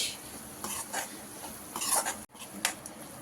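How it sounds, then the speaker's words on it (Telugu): Ivy gourd fry being served out of a cooking pan, with a few scrapes and clinks of a utensil against the pan, close and fairly quiet, alone without talk. "ఇంకా నేను డిష్ అవుట్ చేసేసుకుంటాను దీన్ని"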